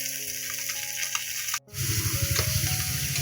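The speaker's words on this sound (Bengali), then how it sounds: "মাছের পেটিটা বাজতেছে।" Rohu fish belly pieces fry in hot oil with a steady, close crackling sizzle that cuts out for an instant midway before resuming louder and busier.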